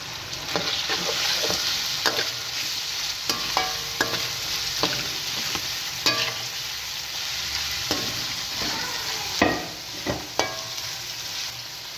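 Carrots and bell peppers stir-frying with chicken in a pan for chicken fried rice, a steady hiss of sizzling oil broken by repeated scraping clicks of a spatula stirring, close and continuous with no talk.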